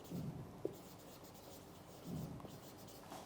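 Marker writing on a board during a lecture, faint squeaky strokes in two short bursts with a tap between them, quiet and without talk.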